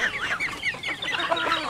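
An old chicken, a rooster on a Filipino farm, clucks in a run of short, close, fairly loud calls with no talk over them.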